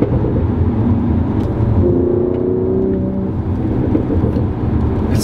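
A 2019 Mercedes-AMG CLS 53 is being driven, its engine giving a steady, full low drone with a brief rising whir midway, heard from inside the cabin without talk.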